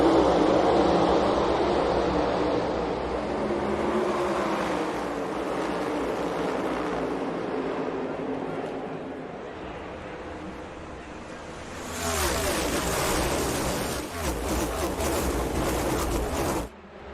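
NASCAR stock cars racing at Michigan International Speedway, a dense roar of engines from the pack that swells sharply louder as cars pass close near the end, with crowd noise beneath.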